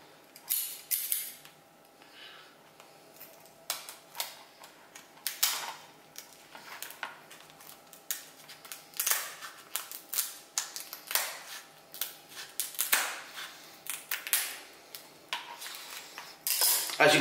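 A knife cuts and cracks through a lobster tail shell in a kitchen, giving a series of close, sharp snips and crunches in irregular bursts, with quiet gaps between the strokes and no speech.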